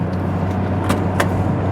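Steady engine and road hum inside a Honda Accord Estate being driven, a constant low drone with a couple of faint clicks.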